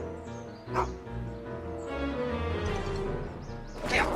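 A dog barks sharply and then whimpers in a long, whining stretch before barking again, close and fairly loud over a murky low background rumble.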